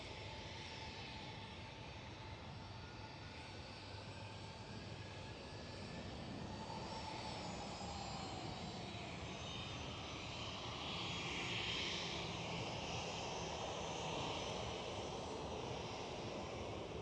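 Transavia Boeing 737 airliner engines at Amsterdam Schiphol produce a continuous, fairly distant jet roar with a thin whine, swelling slightly louder toward the end.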